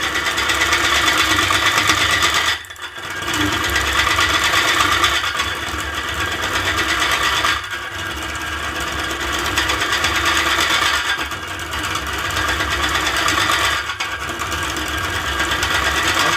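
A wood lathe hollowing out a turned piece gives a steady, loud mechanical whir and hum, broken by a few brief dips as the tool lifts off the wood.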